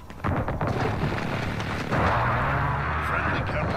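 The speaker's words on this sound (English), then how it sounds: "Airstrike on the way." Airstrike explosions in Modern Warfare, heavy booming blasts rolling together into a loud sustained rumble that runs through the whole stretch, with a voice speaking under it.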